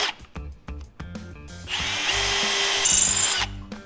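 Power drill working on a winch, with short stop-start whirs and clicks giving way to a long, steady, loud drilling run that ends abruptly.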